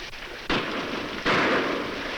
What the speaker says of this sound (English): Shots sound like they come from over ridge.